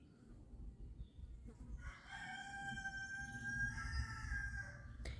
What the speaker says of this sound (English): When you hear the crowing, it's one of our other roosters.